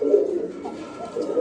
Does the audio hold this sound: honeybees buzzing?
no